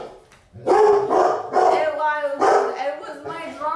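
A dog barking in a series of loud, close barks, several sharp calls in an uneven rhythm with brief pauses, standing alone in a quiet room.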